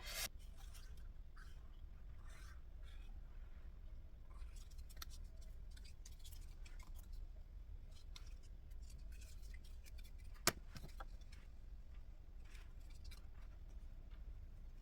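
Faint, repeated snipping and rustling close by as scissors cut thread, with one sharper click partway through over a quiet low hum.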